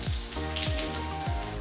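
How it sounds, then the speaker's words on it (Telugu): Cumin, mustard seeds and chana and urad dal crackle in hot oil for tempering, a dense close sizzle with repeated sharp popping bursts and no talk. "ఇందులో ముందు పోపు వేసేద్దాం."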